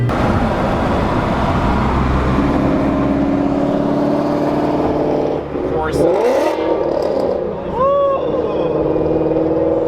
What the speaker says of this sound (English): That is loud. Corsa exhaust.